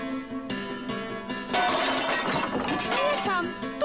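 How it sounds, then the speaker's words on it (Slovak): Mirrors being smashed in a 1994 TV comedy scene: a loud sudden crash of breaking glass erupts midway and tinkles on through the rest, preceded by a sustained musical tone, with voices speaking. "Rozbil som všetky zrkadlá a stále neviem, ktorá tvár ti patrí."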